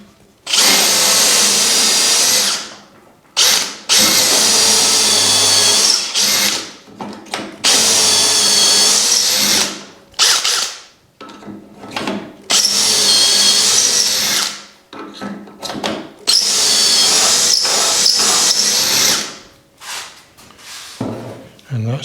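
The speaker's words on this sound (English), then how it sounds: "Now we're going to be drilling through number 3." A power drill bores into wood through a Dowelmax doweling jig clamped to a mitered-rail table top panel: several loud, sustained high-pitched whining runs separated by short pauses and handling clatter, close to the microphone.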